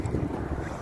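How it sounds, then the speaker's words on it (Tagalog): Wind during a snowstorm in Edmonton, Canada, a dense low buffeting rumble hitting the microphone continuously, loud and close with no voices. "May bagyong snow."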